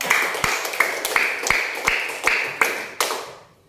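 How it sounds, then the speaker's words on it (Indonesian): Separate hand claps ring out in a steady rhythm in a classroom, about eight sharp, close claps spaced roughly evenly, the last one trailing off into quiet. "Coba tepuk."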